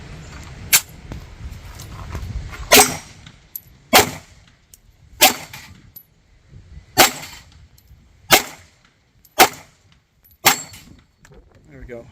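Devil Dog Arms 1911 pistol firing a magazine of brass ammunition, about eight sharp, loud shots spaced roughly a second or more apart, with faint background noise between them.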